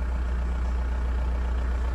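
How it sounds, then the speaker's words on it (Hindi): A Skoda Octavia with a 1.9 TDI diesel engine idles nearby, giving a steady, unbroken low rumble at constant level with no voices. "और गाड़ी का इंजन का नॉइज सुनना,"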